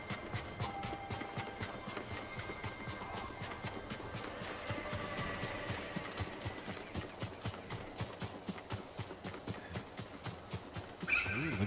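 In the game Ghost of Tsushima, a horse whinnies while hooves clip-clop in a quick, steady rhythm, close and continuous under ambient game sound, with a sharper sound near the end.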